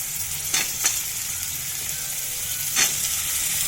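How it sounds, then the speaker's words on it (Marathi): Snake gourd slices fry with onion in oil, giving a soft continuous sizzle broken by a few brief scraping stirs of a utensil in the pan. "आता पडवळ आपण नीट असं भाजून घेणार आहोत 5 ते 6 मिनिट."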